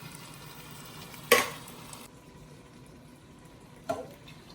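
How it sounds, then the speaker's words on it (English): Tomato sauce dumped into a hot pan for a pasta sauce with Beyond Meat gives two quick splashy bursts that settle into a faint, steady sizzle. "you just dump all your tomato sauce in there"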